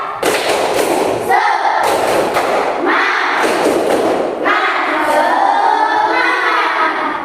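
Schoolchildren in a classroom perform the rhythmic tepuk semangat clapping chant, with loud bursts of group clapping coming in separate patterned blocks with short pauses between them, mixed with voices chanting along.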